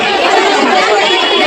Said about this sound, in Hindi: तो देखिए सैकड़ों की भीड़ लग गई है